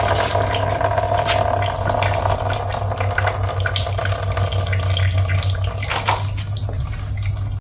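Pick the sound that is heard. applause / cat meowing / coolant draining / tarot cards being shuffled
coolant draining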